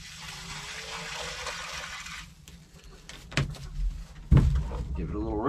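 Water rushes from an outdoor hot water faucet in a steady hiss for a couple of seconds. Then the flow cuts off and a few thumps and clunks follow nearby.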